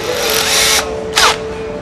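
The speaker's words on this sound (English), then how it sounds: "With a cordless drill," A cordless drill fitted with a counterbore tool whirs in two close bursts, the second short and sharp. The buzzing whine is near and loud, with no talk.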